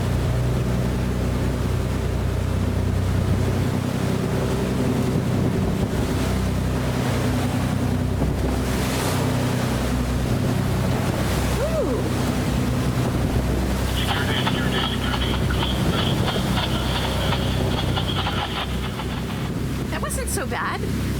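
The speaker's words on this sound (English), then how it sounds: "Nice ocean swell." Motorboat pushing through ocean swell, a steady engine drone mixed with waves and heavy wind noise on the microphone, with brief voices in the background.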